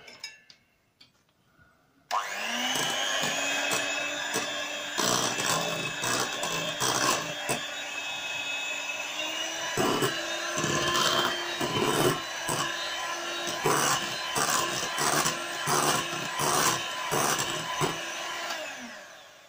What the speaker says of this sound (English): Now whisk it.